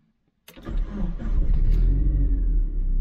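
A Mazdaspeed Miata with a minor exhaust leak cranks and fires up after a moment of silence, then settles into a loud, steady low rumbling idle close by.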